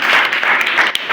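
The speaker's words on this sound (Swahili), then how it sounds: "Makofi yake tafadhali." A university political gathering's audience breaks into loud, dense applause, a steady wash of clapping that fills the whole moment without a break.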